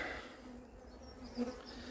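A recovered honeybee swarm buzzes after being shaken into a cardboard box, a faint steady hum with a slight swell near the end.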